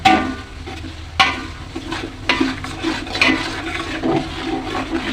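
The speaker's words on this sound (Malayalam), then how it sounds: "ഇഞ്ചി അടിയിൽ പിടിക്കും അതുകൊണ്ട് നമ്മൾ എന്ത് ചെയ്യണം നന്നായിട്ടൊന്ന് ഇളക്കി കൊടുക്കണം കേട്ടോ" Ginger being stirred in a frying pan, a spoon scraping and stirring against the pan in sharp bursts over a steady low sizzle of frying, close and fairly loud with no talking.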